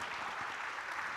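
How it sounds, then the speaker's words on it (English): Audience applause after a tech talk on Flutter app performance, a faint, dense patter of clapping from a crowd that holds steady for just over a second. "you can clap for me"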